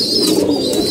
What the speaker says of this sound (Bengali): এই কবুতরটা হলো এটা